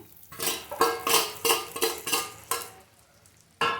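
A spoon stirring and scraping boiled chicken into a frying pan for chicken fry, in a steady run of about eight sharp metallic strokes with a faint sizzle underneath.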